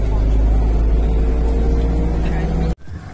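A bus drives along a road in India, its engine producing a loud, steady low rumble from inside the cabin before cutting off abruptly near the end.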